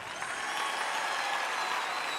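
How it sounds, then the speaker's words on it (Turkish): An audience applauds at a solo concert, a dense, even wash of many hands clapping that holds steady throughout with no break. "Alkışlar"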